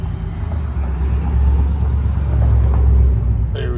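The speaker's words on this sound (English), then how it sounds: "Whose big truck's coming?" A big truck rumbles past outside a garage where a 2006 VW Jetta's door wiring is being worked on, its deep engine drone steady and swelling slightly before fading, with a brief higher noise at the end.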